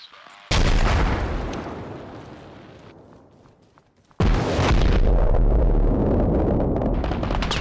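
Impact grenade in the Arma Reforger video game, heard as a sudden loud blast whose booming rumble fades over several seconds, then a second heavy explosion that stays loud and rumbling to the end.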